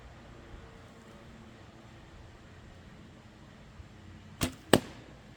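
An arrow of about 585 grains and 29 3/4 inches is shot from a traditional bow at a balloon target: a quiet draw, then a sharp twang and whoosh quickly followed by a loud pop, under faint outdoor ambience.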